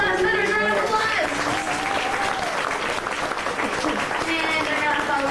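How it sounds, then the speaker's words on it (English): An audience on a studio tram tour claps for volunteers, a steady and dense round of applause from many hands, with a voice talking over the clapping. "Could y'all please give our volunteers one big last minute round of applause?"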